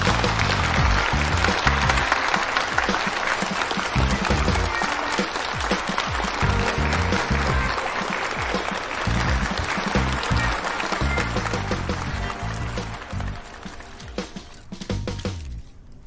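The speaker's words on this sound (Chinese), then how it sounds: "大家掌声欢迎。" Sustained, enthusiastic applause from a large audience at a phone product launch event welcoming a product manager to the stage, dense clapping throughout that thins out toward the end.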